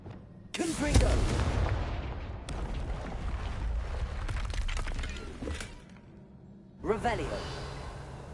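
A Confringo blast spell in Hogwarts Legacy smashing a barrier: a loud burst and shattering crash, then rumbling debris and a second impact, with a voice speaking over it.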